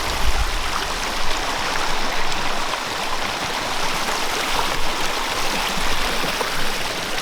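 Stream water flows near an abandoned tunnel, a steady, fairly loud rush and babble of water over rocks, close by and continuous with no voices.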